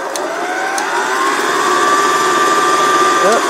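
An electric mixer whirs loudly and steadily while mixing ambrosia salad with pudding, a continuous motor drone with slight pitch shifts, running alone close by.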